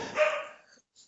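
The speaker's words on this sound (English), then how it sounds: "it's my dog's barking" A dog barks once nearby, a short, fairly loud bark that trails off quickly, with no talking over it.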